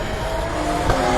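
A Porsche race car at Hallett racing circuit roars past, its engine note loud and sustained with a brief swell near the end of the short burst.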